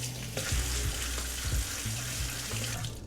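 A wooden cutting board is scrubbed with soap under a running tap, giving a steady rush of water with soft scrubbing and splashing bursts through it. The sound is near and continuous, and nobody speaks.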